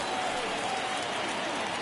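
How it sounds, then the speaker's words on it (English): A baseball video game's stadium crowd, at a Pirates at Cardinals matchup, gives off a dense, steady roar of cheering and clapping that holds at an even level throughout the short stretch. "you can feel this crowd waking up a bit here"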